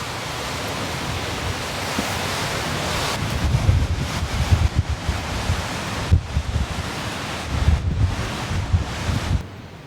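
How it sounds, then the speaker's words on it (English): Strong wind gusting at a campsite in a dammed valley during a heavy rainstorm, a loud rushing roar that swells and dips over several gusts, buffeting the microphone, with no speech. "Listen to that wind coming in."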